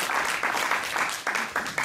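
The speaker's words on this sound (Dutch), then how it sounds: "Nog een applaus voor Marcus." An audience at a speaking event applauds in a steady clatter of clapping, with rhythmic swells, close and moderately loud.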